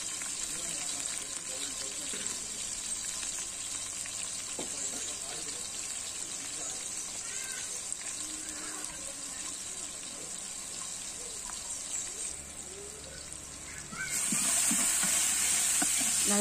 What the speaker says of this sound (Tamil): நல்லா வதங்க ஆரம்பிச்சிருக்குங்க வெங்காயம்